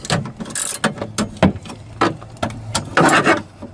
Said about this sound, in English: You need your 7mm socket to remove these screws to get this handle off